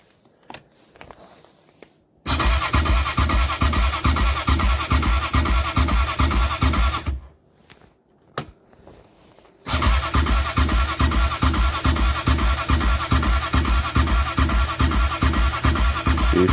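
An 1987 Honda Big Red ATV engine, cold and on choke, cranks briefly then catches into a loud, steady chugging idle, dies out, and restarts into the same rapid close idle.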